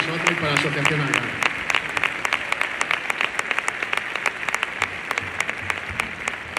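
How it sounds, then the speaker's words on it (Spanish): Applause fills the hall during a farewell speech for an Almería CF captain, a steady wash of clapping from a large audience with individual sharp claps standing out. Some voices mix in at the start before the clapping dominates. "El primer aplauso es para todos vosotros y para la Asociación Argal."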